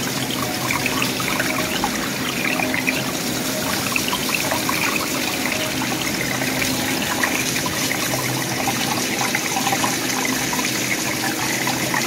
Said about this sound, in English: you can hear the water hitting the ice back there, way down there